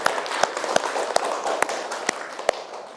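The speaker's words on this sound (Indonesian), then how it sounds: "Sekali lagi tepuk tangannya untuk semuanya." A classroom of students applauds after group presentations, steady moderate clapping with a few sharper individual claps standing out.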